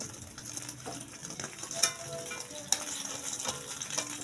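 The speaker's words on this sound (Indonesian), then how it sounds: "Kita siapkan minyak untuk dadar telur. Kalau minyak udah panas, kita tuang." Egg omelette batter frying in hot oil in a pan, a steady soft sizzle with faint scraping and a few light metallic clinks, close and fairly quiet, with no talking.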